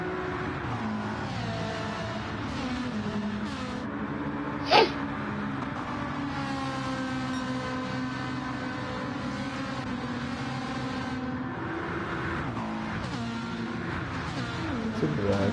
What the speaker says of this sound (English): down this long straight, Cartman's still in that that vital slipstream behind Lenz